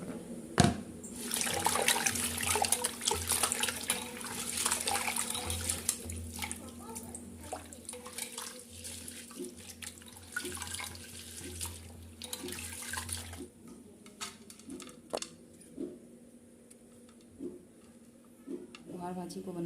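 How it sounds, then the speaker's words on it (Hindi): Bohar bhaji leaves are washed under a running tap, with water pouring steadily and splashing for most of the stretch before easing off into scattered drips and handling noises near the end. "हम भाजी को धो लेंगे"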